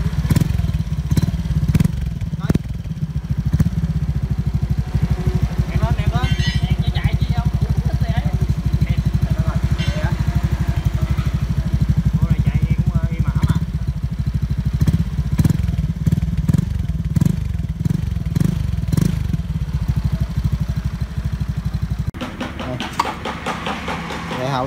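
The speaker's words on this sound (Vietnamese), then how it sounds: "Test bô thử coi, kêu tiếng bô thử coi." A Honda Vision scooter fitted with a modified dual exhaust runs close by, giving a steady low engine drone with some clattering and louder bursts throughout while people talk over it.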